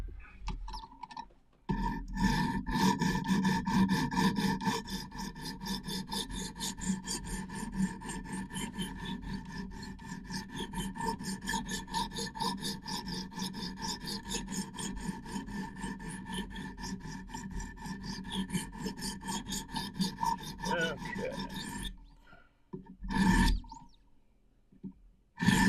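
A knife blade is scrubbed back and forth on a sharpening stone in a continuous, close raspy grinding rhythm lasting about twenty seconds, stopping briefly at the start and near the end.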